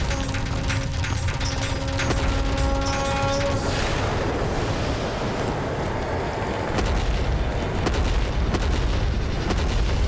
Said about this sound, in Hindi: विस्फोट।